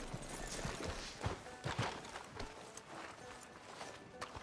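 Horse hooves clip-clopping in the video game Red Dead Redemption 2, a quick irregular series of soft thuds from a horse moving along a town street, heard close amid ambient background noise.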